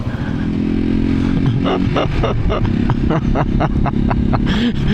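A Janus motorcycle ridden on a test ride, its small single-cylinder engine thumping in a steady rapid pulse up close, with a rider talking and laughing over it.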